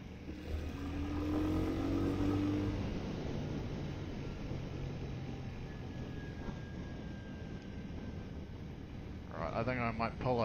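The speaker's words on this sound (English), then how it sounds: "It's got quite a nice exhaust note, this engine as well." A Royal Enfield Hunter 350 motorcycle on the road, its steady exhaust note and engine drone heard from the rider's position with wind noise, rising briefly at the start, with a voice speaking near the end.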